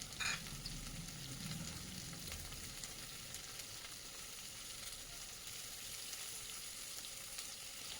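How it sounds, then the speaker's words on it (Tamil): Vegetables sautéing in hot oil in a pan for a vegetable curry, a steady close sizzle and crackle that continues without pause, with no talking. "இந்த எண்ணெயிலேயே 2 நிமிஷம் நல்லா வதக்குங்க."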